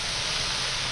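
Finely sliced sirloin beef cooks on a hot grill, giving off a steady, loud, close sizzling hiss that runs unbroken for the whole moment.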